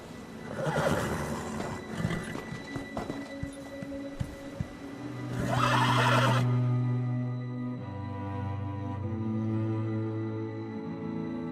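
Horses in the video game Elder Scrolls Online whinny and neigh, with several loud, drawn-out calls and faint hoof clatter between them.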